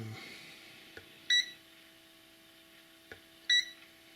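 A Venlab VM-600A digital multimeter in diode test mode gives two short high beeps, each preceded by a faint click, over a quiet hum.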